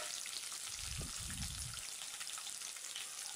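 Finely chopped green chillies frying in oil with urad dal, a soft steady sizzle heard close up, with a brief low rumble of stirring near the start and no talking.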